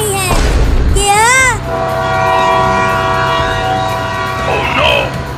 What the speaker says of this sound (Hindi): अरे चिंटू और मम्मी आगे देखो, इसी लाइन पर आगे से ट्रेन आ रही है।